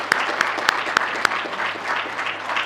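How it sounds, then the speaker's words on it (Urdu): Audience at a Benazir Income Support Programme headquarters Independence Day ceremony applauds for the BISP chairperson, a steady wash of clapping with a few sharper claps standing out near the start, no voices over it. "BISP کی چیئرپرسن سینیٹر روبینہ خالد کے لیے پرزور تالیاں"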